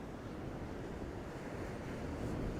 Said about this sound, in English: Wow, the wind is amazing at the moment.